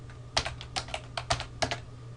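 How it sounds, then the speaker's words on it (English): A password is typed on a computer keyboard: about a dozen quick, close keystrokes in small irregular bursts over a faint background hum. "We'll go ahead and type that. Local password."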